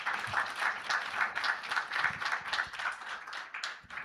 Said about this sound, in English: let's give Dr. Anurag Batra a bigger round of applause.